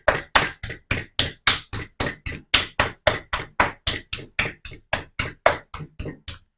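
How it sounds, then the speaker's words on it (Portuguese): A slab of ceramic clay is slapped down repeatedly against a tabletop, about twenty sharp, close thuds in a quick, fairly even rhythm with no talking. "vou batendo de encontro à minha mesa"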